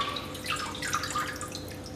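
Soft trickling and dripping of water draining from a sanitized hose during homebrew bottling, faint and close, continuous for a couple of seconds.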